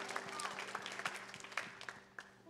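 Scattered applause from a church audience for students at a ministry event, a modest patter of claps rising and fading, with a steady hum underneath.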